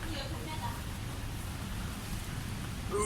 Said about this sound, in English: Ooh, it's raining outside.